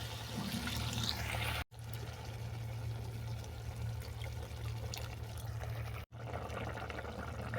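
Water poured from a bowl into a simmering pot of pineapple pulao base with spices, a steady close pouring and trickling rush that runs continuously with two brief breaks, over a low hum.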